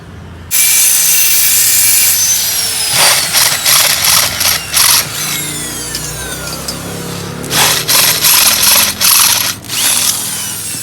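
A loud, close power drill whines steadily for several seconds, with grinding bursts as the bit bites into a metal gear set part for a Benelli 250, pausing and resuming.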